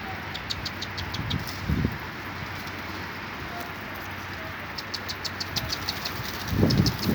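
Soft low coos from a hungry female pigeon come in short bursts over a steady engine idle and faint clicking nearby.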